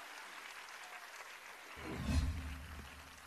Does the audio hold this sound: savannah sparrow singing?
no